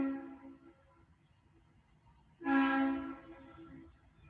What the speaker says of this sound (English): Train pass by fast.